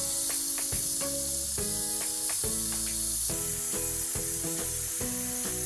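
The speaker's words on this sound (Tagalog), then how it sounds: "once na maingay na no, yung ating pressure cooker" Pressure cooker cooking pork trotters on the stove, its steady loud hiss of steam running throughout under rhythmic rattling clicks of the valve, with no one talking.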